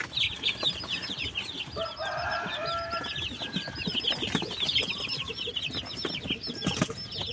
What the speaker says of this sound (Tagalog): Meron siyang Black Australorp, merong Decal Brown, tsaka Rhode Island Red na production.